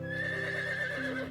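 A cartoon horse named Prince, a newly trained horse, gives a sustained whinny with a wavering pitch, close and moderately loud, over a steady musical background, no voices.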